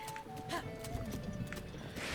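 A horse in the game Breath of the Wild, hooves clopping in an uneven rhythm with a soft snort or whinny, close by and moderately loud.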